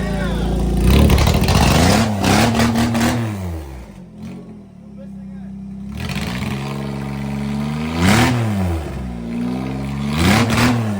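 Car engine revved after wiring and exhaust work, rough and clattering, rising and falling in repeated throttle blips with a short quiet gap in between, close and loud.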